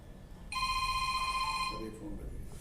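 A telephone rings with one sustained electronic bell tone lasting just over a second, close and clear, during a conversational interview, with a voice following right after.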